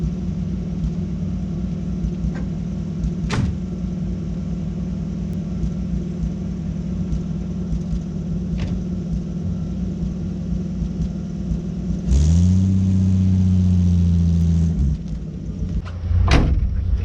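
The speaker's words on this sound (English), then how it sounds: "I want to go ahead and take it down the road right quick, see how she does." A 1957 Chevy engine idles with a steady low rumble, then revs up for a few seconds as the car pulls away. A solid thunk follows near the end.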